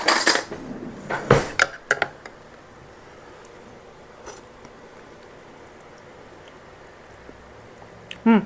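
A metal spoon clinks sharply against dishes during home cooking, with a cluster of loud clatters at the start, a few lighter taps, then near silence before one more clink at the end.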